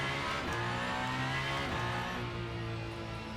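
Alpine A424 hypercar accelerating hard at Spa-Francorchamps in Le Mans Ultimate, engine note climbing steadily through the revs with a gear change partway, loud and close, no talk.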